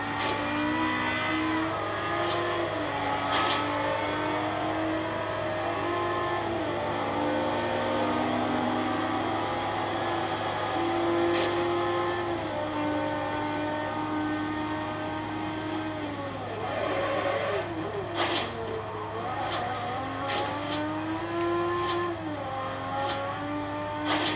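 Car engine in Forza Horizon 2 racing with a steady, sustained drone whose pitch climbs and dips through gear changes, with brief sharp bursts over the top and no talking.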